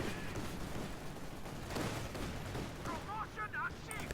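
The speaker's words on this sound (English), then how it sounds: "However, infiltration grenades going off." Grenades exploding in Company of Heroes 2 as a dense run of bursts and rumble, with battle gunfire throughout and a few brief whistling tones near the end, all fairly quiet.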